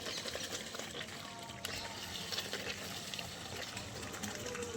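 Water from a tap gushes steadily into a bucket, a continuous soft rushing and filling sound heard faintly throughout with no talk.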